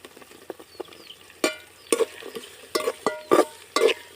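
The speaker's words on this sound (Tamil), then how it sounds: "பூண்டு நல்லா வதங்கி வரட்டும்" Garlic sautéing in oil with onion, green chilli and curry leaves for a Sankara fish curry; a utensil stirs and scrapes in irregular bursts over a soft, steady sizzle, with no talking.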